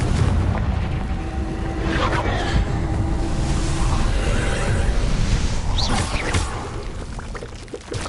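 Confringo spell explosion in Hogwarts Legacy gameplay: a loud, sustained fiery blast with roaring, crackling debris that churns for several seconds before easing slightly at the end.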